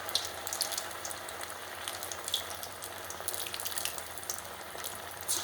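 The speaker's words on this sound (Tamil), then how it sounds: "வடையை தட்டி போட்டுட்டு அதுக்கப்புறம் நம்ம தீ ஊற்றி விட்டுக்கலாம்." Poha vada frying in hot oil, a steady close sizzle and crackle with soft bubbling pops, continuous and fairly quiet with no talking.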